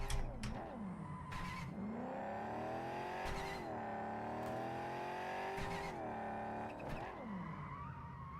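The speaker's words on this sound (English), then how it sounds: "Is that a glitch or they had some weird shifting sound?" A car engine in Cyberpunk 2077 revs and drops repeatedly, with abrupt, oddly glitchy pitch jumps at each gear change and brief tire squeals, loud and close with no talking.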